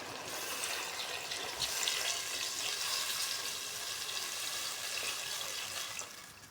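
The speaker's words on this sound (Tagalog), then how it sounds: "Pwede natin lagyan ng tubig." Water is poured into a cooking pot for chicken soup, a continuous rushing splash that swells slightly midway, holds for several seconds, then tapers off at the end.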